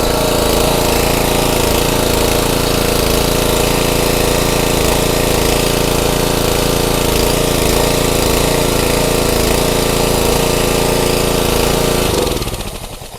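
A small petrol engine on a pressure washer runs steadily after a pull start, a loud, continuous rough drone close by that cuts off abruptly near the end.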